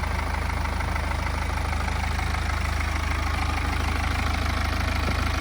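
A BMW 420d Gran Coupe xDrive M Sport diesel engine idles steadily up close, a loud continuous low rumble with fine rapid clatter and no voices.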